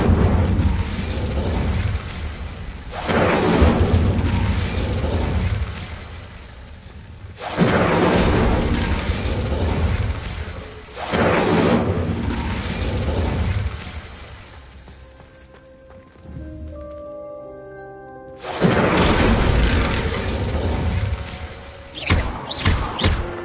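Incendio fire spells are cast repeatedly in Hogwarts Legacy, each one a loud whooshing, thumping burst of flame, several in a row with short lulls between and a quieter stretch before a final flurry.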